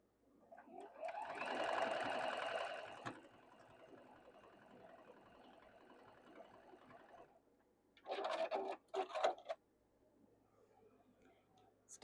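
A sewing machine stitching quilt block pieces runs in a loud burst, slows to a softer whirring stretch, then gives a few short quick runs after a pause, close and with no talk.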